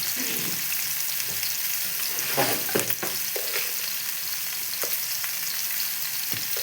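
Chopped bottle gourd and lentils with rock salt fry in a pan for a masala pulusu while being stirred: a continuous loud sizzle and crackle with scraping strokes, close up and without talk.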